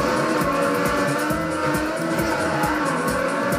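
A race car in the TrackMania video game drives at speed with a steady, loud engine drone and rhythmic tire noise throughout, alone without talk.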